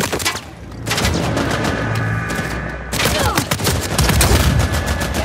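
Dense gunfire in the video game Uncharted 4, sustained bursts of rapid shots and impacts filling the whole stretch with a brief lull near the middle, loud and close.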